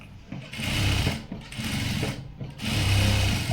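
Sewing machine stitching a seam on blouse fabric, loud close mechanical whirring in three runs with brief pauses between them, a voice faintly audible in the gaps.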